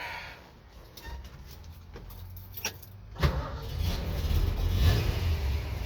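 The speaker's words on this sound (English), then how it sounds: "I'm going to climb in the car here and start it up, and you can hear it run." A 1965 Ford Mustang GT with a K-code V8 cranks and catches, then settles into a steady, close engine rumble that grows louder and fuller toward the end, with a few light clicks and rattles early on.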